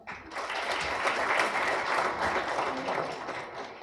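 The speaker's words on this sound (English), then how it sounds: "Let's show our appreciation with a warm round of applause." A warm round of applause fills a hall at a valedictory function for a youth gram sabha competition in Goa. Dense, sustained clapping from a sizable audience runs steadily for several seconds with no voices over it.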